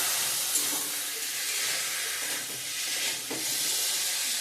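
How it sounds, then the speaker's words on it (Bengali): Chili, coriander and cumin powders sautéing and being stirred in oil for a rohu fish curry with potato and pointed gourd, a steady soft hissing sizzle with faint scraping strokes, close and continuous, no voices. "ধনিয়া গুঁড়ো জিরা গুঁড়ো সব মশলা এক করে দিয়ে দিলাম আর একটু কষিয়ে দেবো ভালো করে"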